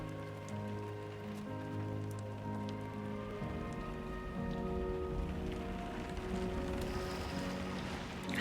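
Steady timefall rain patters on surfaces in the Death Stranding 2 video game, a continuous wash of drops layered under a sustained musical score.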